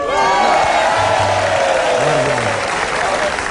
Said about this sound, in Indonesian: kita beri tepuk tangan untuk Warsini dan Warsit